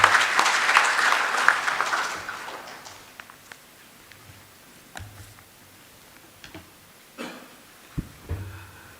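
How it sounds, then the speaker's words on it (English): An audience at an industry workshop on GMP revisions bursts into loud, dense clapping that fades after about two seconds into a few scattered claps and light taps. "Clapping for all."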